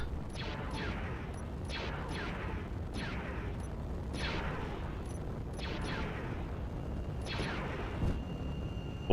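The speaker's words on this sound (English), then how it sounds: "Oh, yeah, they're firing." Enemy frigate guns fire in the game Space Engineers: a steady series of heavy booming shots, roughly one or two each second, over a deep rumbling background.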